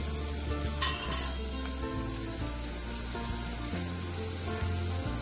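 Chopped onions and cumin sautéing in oil in a kadhai give a steady, dense sizzle that runs unbroken from start to finish, close and even, with a few faint clinks and no talking.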